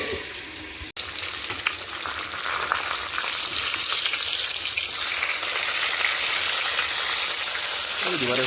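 Green chili, salt and turmeric go into hot oil left from frying fish, giving a loud, steady, close sizzle that runs continuously apart from a brief dropout near the start.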